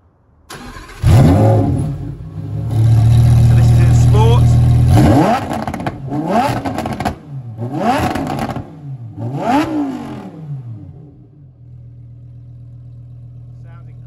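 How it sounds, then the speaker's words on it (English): A 2019 Lamborghini Huracán LP640-4 Evo engine cranks and starts with a loud roar, settles into a steady idle, then revs sharply several times before dropping back to a low idle. "start the vehicle, give it a couple of revs"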